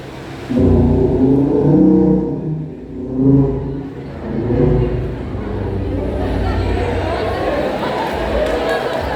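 Several stock motorcycles with factory exhausts rumble past one after another, engines overlapping in a steady roar, with faint crowd chatter in the background.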